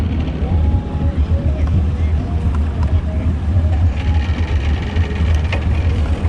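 Steady, loud drone of a bass boat motor running during a bass tournament on the Madison Chain of lakes, Wisconsin, with constant wind buffeting and water noise, no pauses throughout.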